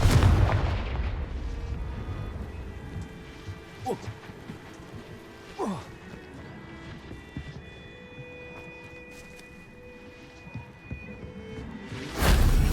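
Confringo fire spells in the video game Hogwarts Legacy go off as booming blasts, one at the start, several sharper cracks in the middle and a heavy burst at the end, over a quiet rumbling game background.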